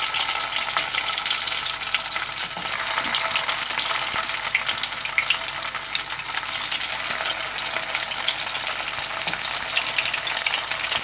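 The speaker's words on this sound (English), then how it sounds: "While these are frying" Steady, loud crackling and sizzling of fish balls deep frying in hot oil, continuous and close, with no voices.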